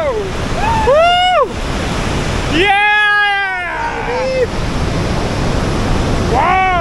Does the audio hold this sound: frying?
no